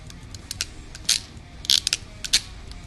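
A hand crimping tool squeezes a double-barrel wire terminal on a car wiring harness, giving a few sharp ratcheting clicks and metallic snaps spread over a couple of seconds against quiet room tone.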